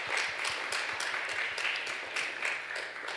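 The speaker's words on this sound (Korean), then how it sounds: "우리 하나님께 영광의 박수 올려드리겠습니다." Congregation clapping in a Korean church during an education-department revival service, rhythmic unison claps heard from a distance, fairly faint and steady.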